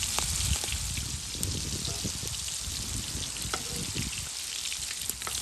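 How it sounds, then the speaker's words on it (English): Shrimp sizzling and crackling in hot oil, a steady close frying hiss with scattered pops, no one speaking. "I'm gonna add in my shrimp. We're gonna fry this on both sides for about 4 minutes or so."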